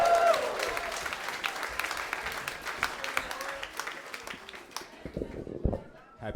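Comedy club audience at a Broadway venue claps and cheers as a comedian takes the stage, the applause loud at first and thinning out, with a voice talking over it toward the end.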